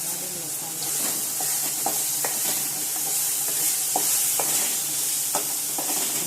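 Onion, tomato and spices including garam masala, salt, chilli and turmeric fry in a pan for egg curry, a steady broadband sizzle broken by repeated scraping stirs of the spoon, close and continuous with no talking.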